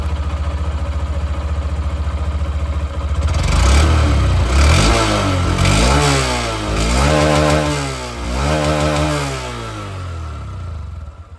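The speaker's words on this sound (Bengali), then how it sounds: "চলুন তবে এর যে এক্সস্ট সাউন্ড সেটাও আমি আপনাদেরকে এখানে শুনিয়ে দিই, যে আওয়াজটা কীরকম আসছে।" A 2025 Honda Shine 125 OBD 2B motorcycle idles with a steady putter, then the throttle is blipped in several rising and falling revs, the exhaust loud and close before settling back to idle.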